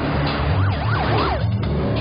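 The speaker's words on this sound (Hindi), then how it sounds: "सिर्फ एक कॉल करने से तुरंत एम्बुलेंस आ गई" An ambulance siren wails nearby, rising and falling in a steady cycle over the low rumble of road traffic, loud and continuous with no voices.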